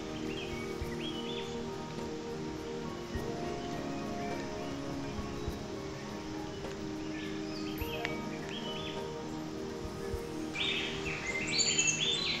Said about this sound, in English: Many small birds flit about.